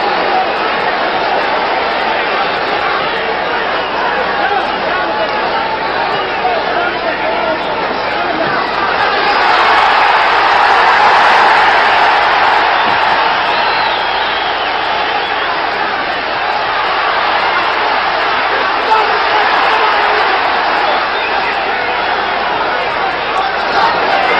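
Crowd at a world-title boxing match, a steady roar of cheering and hubbub that swells in the middle, heard alone without clear speech.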